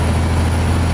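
Steady low truck engine drone with a resonator-fitted exhaust, heard from inside the cab with the windows down, continuous and loud with broadband wind and road rumble, no talking.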